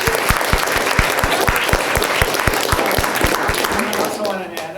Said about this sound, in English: can we have a round of applause for William